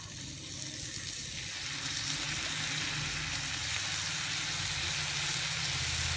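Soy sauce sizzling as it hits cooked chicken in a hot pan, a steady bright frying hiss over a low stove rumble, continuous and close for the whole stretch.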